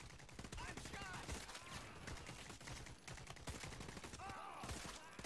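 Enemy gunman firing in the shooter game Caliber, with rapid, continuous automatic gunfire rattling throughout amid a busy, loud battle mix.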